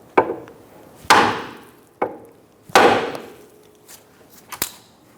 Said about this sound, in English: We're going to give the knuckle a bonk and remove the outer tie rod from the knuckle.